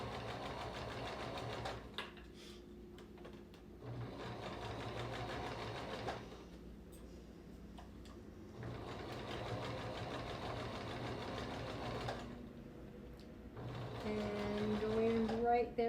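Home sewing machine running a quarter-inch seam around the ankle opening of a sleeper slipper, its steady motor whir repeating in bursts of several seconds separated by short pauses.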